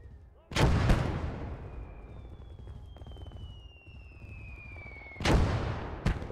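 Mortar and artillery fire in a World War II video game set around Carentan: heavy booms at the start and again near the end, with a long whistling incoming shell in between, against a rumbling battlefield bed.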